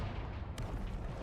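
A Confringo blasting spell going off in Hogwarts Legacy: a low, rumbling explosion that sits under the scene throughout, with a sharp crack partway through.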